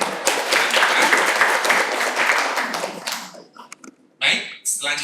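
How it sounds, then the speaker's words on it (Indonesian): An audience applauds a poem reading at a teachers' mentoring session, dense clapping for about three seconds that dies away into scattered last claps, followed by a voice starting to talk. "Mari kita beri tepuk tangan bebas untuk"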